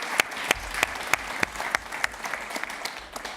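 Sparse audience applause at a French regional TV special, a small live crowd clapping in distinct, fairly spaced claps rather than a dense roar, moderate in level and heard alone.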